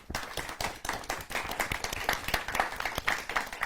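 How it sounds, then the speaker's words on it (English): Audience applause at a candidates' question time event for the president category, a small-to-medium crowd clapping in a lively, uneven patter with distinct individual claps audible throughout. "I want to give the President category a round of applause"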